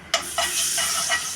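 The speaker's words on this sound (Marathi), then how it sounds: "अशा तऱ्हेने फोडणी देऊन आता त्यात" Cumin, turmeric, pav bhaji masala and red chilli powder sizzling in hot tempering oil for misal, a steady close hiss with a few sharper crackling bursts.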